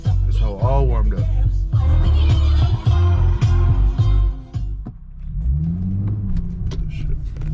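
A Nissan G37 engine revs in several sharp, loud bursts up close while warming up, then settles to a lower, rising hum as it idles.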